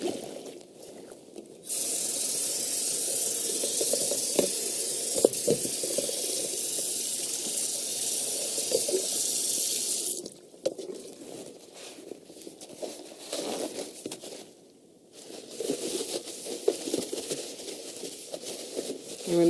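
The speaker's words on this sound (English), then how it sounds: "Okay, so now we're going to empty, rinse, and dry our basin." A wash basin is emptied and rinsed at a sink, with a long steady hiss of running water, a pause, then more splashing and rinsing close by.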